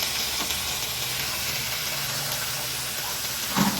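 Marinated pork hitting a hot pan and sizzling, a steady, loud frying hiss that holds throughout with a small clatter near the end.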